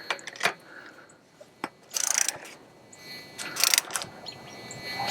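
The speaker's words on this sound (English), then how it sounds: "let's go take the old torque wrench and go to 35 to 40 and see what we get" A torque wrench ratchets and clicks while tightening the spindle on a 1988 Ford Bronco, sharp close clicks and short bursts of ratcheting spaced irregularly across a quiet garage background.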